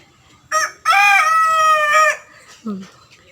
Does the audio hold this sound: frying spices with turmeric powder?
no